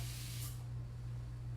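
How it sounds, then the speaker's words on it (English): A spray bottle gives one short burst of water into a container of chalk paste, a soft hiss that fades quickly over a steady low hum. "I am going to go ahead and put spray some water in here to loosen it up"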